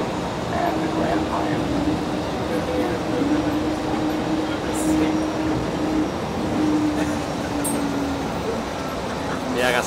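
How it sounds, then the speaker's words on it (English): Steady rumble of a subway train pulling away, with a low hum and rattling underneath; voices murmur faintly in the background. "This train is departing."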